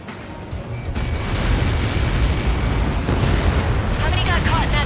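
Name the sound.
explosion from missile impact in Ace Combat 7 video game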